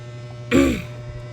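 A single rough throat clear or cough bursts out close by against a faint steady electrical hum, then quickly fades.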